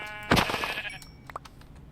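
A sheep in Minecraft's Vault Hunters modpack gives a single loud, close bleat at the start, followed by faint softer game sounds.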